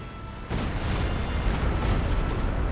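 Artillery barrage in an Advance Wars: Days of Ruin match, a dense rumbling wall of booms that starts abruptly half a second in and stays loud and continuous, with no speech over it.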